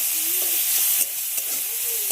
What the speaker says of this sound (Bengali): দিয়ে দিচ্ছি গুগলিগুলোকে এই তেলের মধ্যে দিয়ে দিচ্ছি